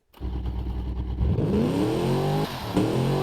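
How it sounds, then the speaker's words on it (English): Simulated Ford Falcon GT-HO Phase 3 V8 muscle car engine in a video game, starting up and revving hard with rising and falling pitch sweeps, loud and close, with no talk. "Let's give our GTHO Phase 3 a bit of a listen"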